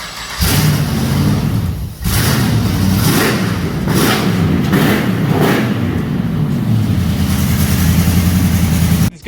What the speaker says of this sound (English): start her up, and then I'll give it a couple of revs